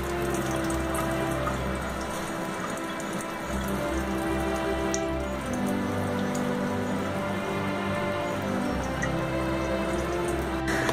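Water from squeezed raw paneer drips and trickles steadily into a container, a continuous wet patter without talk.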